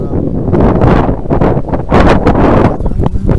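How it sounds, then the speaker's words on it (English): Wind gusts blow steadily across an outdoor churchyard, a loud rushing buffet against the microphone that swells and eases over a few seconds, with no voice heard. "it's a little bit windy today"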